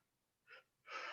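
A sneeze comes in two parts, a short soft intake followed by a louder burst, close and alone against near silence.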